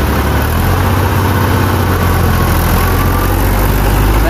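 A tractor engine runs loud and close, a continuous low rumbling drone with steady vibration and no voices.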